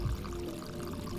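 Water splashing onto the player character in the game I am Cat, a brief steady rushing splash with a low tonal hum underneath, close and fairly quiet, with no talking.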